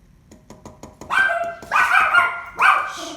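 A dog barks several times, loud and close, with a few short faint yips leading into three strong barks, alone without talk.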